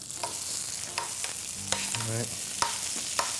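Oil and vegan butter sizzle and crackle in a hot pan on medium heat. Spatula scrapes and stirring taps come at irregular intervals over the steady frying hiss, with a brief spoken word in the middle.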